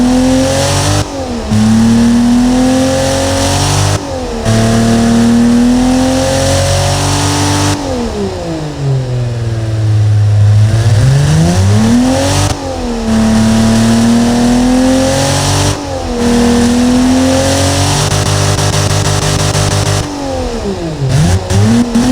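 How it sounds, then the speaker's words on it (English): A modified Nissan L28 inline engine in the Automation car-building game revs again and again, rising and falling in pitch through repeated throttle blips, loud and up close with no voices. "The engine sound magnificent"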